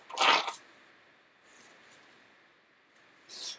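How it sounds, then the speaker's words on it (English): A person blowing their nose during a 3D printer kit build, two short, breathy, hissing blasts at the start and end with a fainter snuffle between, close and fairly quiet with no talking. "Sorry again to blow my nose on camera."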